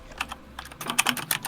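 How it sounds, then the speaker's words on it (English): Loud clacking of a mechanical keyboard being typed on rapidly, a dense run of sharp close keystrokes with no voices. "Loud ass typing."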